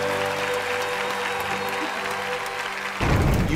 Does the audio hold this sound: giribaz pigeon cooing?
no